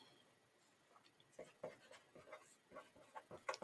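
Marker strokes on a classroom board while a sentence is written, a string of faint scratchy squeaks and taps in irregular bursts, quiet and close with no talking.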